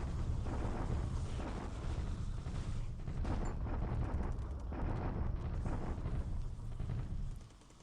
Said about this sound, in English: Bombardment at Clark.